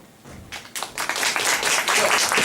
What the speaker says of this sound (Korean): 뜨거운 박수로 맞아주십시오.